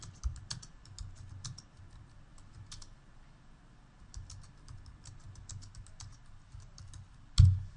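Typing on a computer keyboard: light, fast key clicks in short bursts with a pause in the middle, close and fairly quiet, ending with a single louder click.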